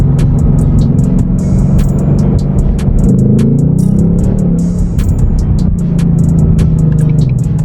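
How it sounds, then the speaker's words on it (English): A Ford Mustang pulling hard in second gear, a loud, close, steady engine roar with shifting low tones and constant buffeting noise, no voices. "We'll do like a little second gear hit if they let me"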